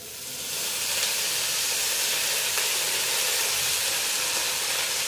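Washed drumstick greens hit a hot pan already holding fried eggplant and vegetables, setting off a loud, steady sizzle and hiss that rises quickly and holds without a break.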